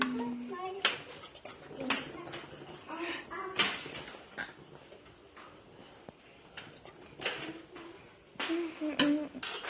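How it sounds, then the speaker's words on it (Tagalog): Pickled papaya ingredients are mixed in a bowl with a spoon, giving irregular clinks, scrapes and knocks against the dish, close by, with voices talking in the background. "Continue mixing."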